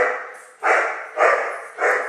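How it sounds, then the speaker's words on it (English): Puppies bark at play indoors, four sharp, loud barks spaced about half a second apart, close by and with no other sound. "Sorry, that's the puppies playing."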